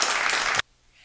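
A burst of applause from a crowd, dense and fairly loud, cuts off abruptly partway through, leaving near silence.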